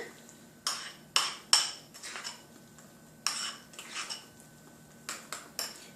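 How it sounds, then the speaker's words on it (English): Metal spoon stirring cinnamon and brown sugar into pumpkin oatmeal in a bowl, a series of sharp clinks and scrapes against the dish, some in quick clusters, close and fairly quiet. "So I'm gonna stir in the cinnamon in the brown sugar."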